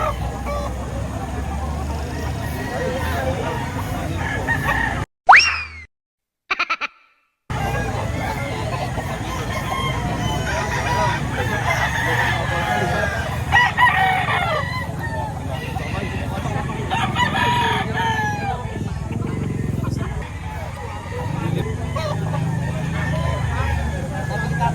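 Chickens and roosters at a poultry market in Lipa, Batangas, clucking and calling continuously, with crowing rising over a steady crowd and traffic murmur; voices talk throughout, and the sound briefly cuts out once.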